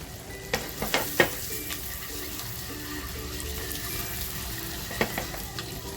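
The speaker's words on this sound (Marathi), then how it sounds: "मी बटर टाकले बटर छान गरम झाले आता अंडी टाकते" Eggs frying in hot butter in a pan, giving a continuous crackling sizzle with a few sharp spatula taps near the start and end, close and moderately loud without speech.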